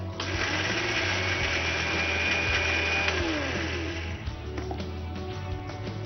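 Mixer grinder blending soft brinjal chutney, a steady whirring motor drone with a rattling jar that holds level for several seconds and then eases slightly toward the end.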